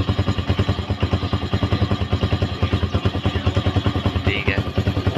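A freshly rebuilt motorcycle engine idles close by with a steady, rapid thumping exhaust beat that stays even and loud throughout, with no talking over it.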